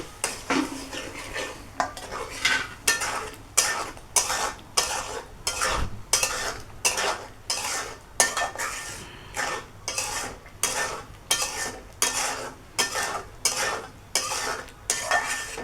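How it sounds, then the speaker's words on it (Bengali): Chopped tomato and coriander paste being sautéed in a pan, with a spatula scraping and stirring in a steady rhythm of about twenty strokes over a light sizzle, loud and close. "টমেটো কুচি আর হচ্ছে ধনিয়া পেশাটা দিয়ে দেবো এখন দিয়ে একটু কষিয়ে নেব"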